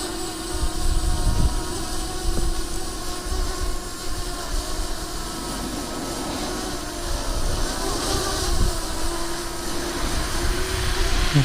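A Hubsan Zino Mini Pro drone flies nearby with a steady, buzzing propeller whine that holds fairly constant and loud over a rough background rumble.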